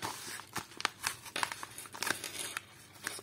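A parcel being carefully opened: packaging tears and crinkles in irregular bursts close by, with short rips and rustles over about three seconds and no talk.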